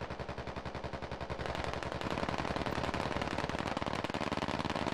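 Rapid machine gun fire in the military shooter game Squad, sustained loud bursts of closely spaced shots that intensify and run continuously, no speech.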